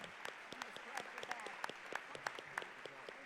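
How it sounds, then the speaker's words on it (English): An audience applauds the panelists at the close of a public forum on an education emergency. The clapping is faint and distant, with scattered individual claps standing out from the wash of sound. "Please, a big round of applause for all of our panelists."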